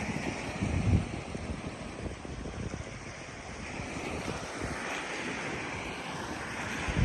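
Waves washing onto Sam Phraya beach, a long sandy beach in a national park with murky water, heard as a steady rushing surf mixed with gusty wind buffeting the microphone, no voices.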